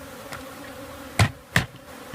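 Honey bees buzz in a low steady hum during a live swarm removal, broken by two sharp knocks as a lid is set in place.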